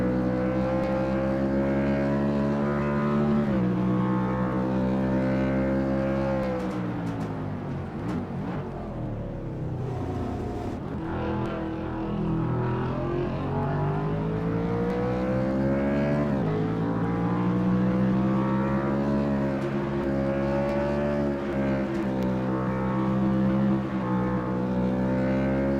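Race car engine roars steadily from an in-car camera at Sonoma Raceway, a loud, close drone with strong harmonics that rises and falls as the driver shifts and brakes, dipping briefly mid-lap before climbing again.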